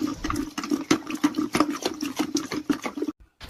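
Chili-powder water poured onto raw mango pieces for a village-style pickle, a steady close splashing and trickling pour that runs continuously for about three seconds before stopping.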